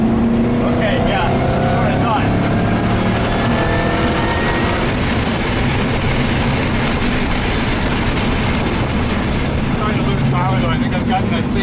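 A Shelby GT500 running fast on a race track at around 120 mph, its engine roaring loudly and steadily throughout with wind noise, while people talk over it.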